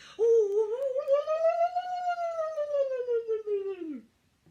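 A voice imitates air escaping from a released balloon in one sustained, wavering tone that rises slightly and then slides down before cutting off, loud and close with no other sound.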